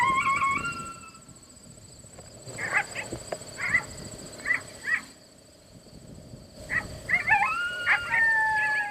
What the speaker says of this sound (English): We've got the alpha dog set up out there about 50 yards, playing the pup serenade.